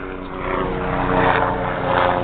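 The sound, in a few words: helicopter flying overhead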